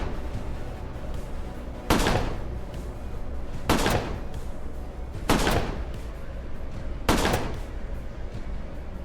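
Four loud, evenly spaced gunshots ring out in the sci-fi RPG Colony Ship: A Post-Earth RPG, each a sharp blast about two seconds apart over a steady background hum.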